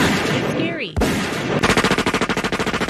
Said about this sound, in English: A lot of these single shot firecrackers.